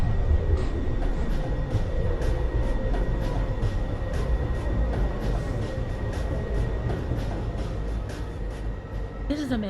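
A Manhattan-bound New York City subway 2 train rumbles at Rector Street with a dense, steady rolling roar and rhythmic wheel clicks. An automated announcement voice carries over the noise.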